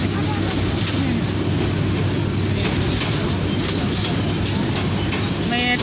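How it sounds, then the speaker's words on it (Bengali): A train rumbles steadily along the tracks close by, a loud continuous roar with faint rhythmic clatter and brief high squeals, while a person talks faintly underneath. "ট্রেন চলেছে, ট্রেন চলেছে"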